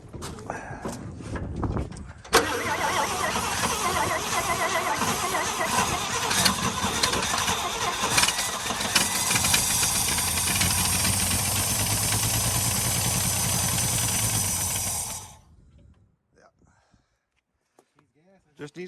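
A 1962 International Harvester farm truck engine cranks, catches and runs loud and rough for about twelve seconds before cutting off, with voices talking nearby.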